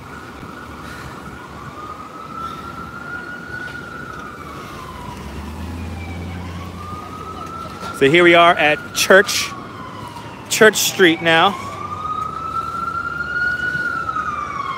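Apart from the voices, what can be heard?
ambulance siren passing on street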